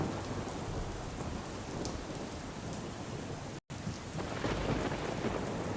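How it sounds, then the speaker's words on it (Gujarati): Heavy rain pours down steadily with deep rumbles of thunder, a dense continuous roar broken by one brief dropout. "ગીર સોમનાથ જિલ્લામાં ધોધમાર વરસાદ પડ્યો છે"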